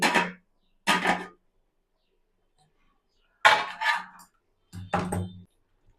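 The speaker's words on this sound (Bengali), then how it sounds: "এবারে আমি ঢাকনাটা খুলে নিচ্ছি" A cooking pot's lid is lifted off in a quiet kitchen, giving several short metallic clinks and clatters separated by silent pauses.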